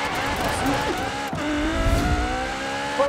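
An Apollo supercar with a 1500 hp engine races in Forza Horizon 4 online, giving a loud, continuous engine roar that shifts in pitch as it accelerates, with a brief tire squeal.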